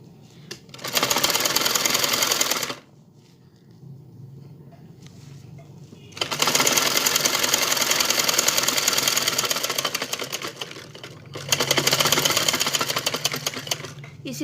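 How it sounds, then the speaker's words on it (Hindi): A sewing machine stitches the shoulder seam of a garment in three loud, rapid, rattling runs, separated by quieter pauses where low voices can be heard. "ये इस तरह कंधे की सिलाई लगानी है।"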